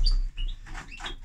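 Pet birds chirping close by, several quick high tweets and short calls overlapping in a steady burst with no talk.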